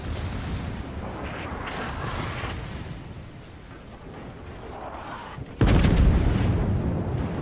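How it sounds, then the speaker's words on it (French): Naval gunfire in the World of Warships video game, a low rumbling battle soundscape that erupts into a sudden loud, booming salvo near the end. "j'ai tiré en même temps, mais c'est la salve du Gneisenau qu'il a eu"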